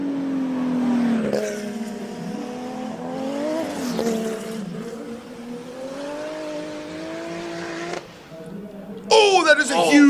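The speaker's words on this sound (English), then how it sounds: "when a car sounds this loud, sometimes not even the top of the line microphone can handle the sound output" Loud race car engine at the Simola Hillclimb King of the Hill event, a sustained howling drone with pitch rising and falling through gear changes, then a sharp burst of revving near the end, with talk over it.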